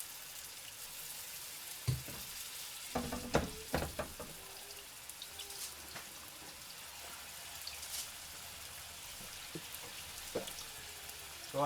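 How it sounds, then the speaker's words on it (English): Meatballs frying in a pan give a soft, crackly sizzle with scattered pops and spits, a few sharper bursts early on, then quieter intermittent crackling. "Hear that sizzle? I love that sizzle."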